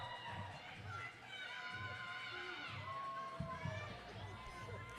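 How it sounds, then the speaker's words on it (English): Cheering squad at a Louisville versus Cornfed roller derby game, a crowd of shouting, excited voices rising and falling continuously in a large hall, with some chatter and a few thumps in the mix. "The cheering squad continuing to go crazy and have fun"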